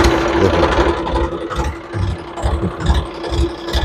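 A Massey Ferguson DI 5245 tractor engine runs close by with a loud, throbbing mechanical chug and an uneven pulsing rhythm, plus a steady whine running through it.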